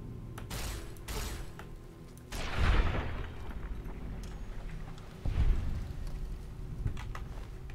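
Gunfire in Fallout: New Vegas: a few sharp cracks are followed by two heavy, booming shots a few seconds apart, loud against a low ambient game background, with no talking.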